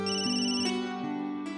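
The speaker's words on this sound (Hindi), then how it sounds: "ये तो आदित्य की डॉक्टर का फोन है" A phone rings indoors with a clear electronic ringtone melody, steady and fairly loud, playing alone for about a second and a half.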